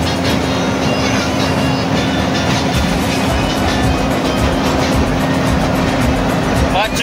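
A mini train runs through a botanical garden in Surat, giving a steady, loud rolling rumble with a constant hum for the whole stretch, and voices from the family picnic can be heard over it.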